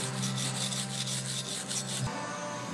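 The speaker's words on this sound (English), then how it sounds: "You're gonna want to wire brush the caliper bracket here where the pads ride." Wire brush scrubbing rust and scale off a front brake caliper bracket on a 2001-2007 Ford Escape, a quick run of harsh rhythmic rasping strokes that stops abruptly, close and alone.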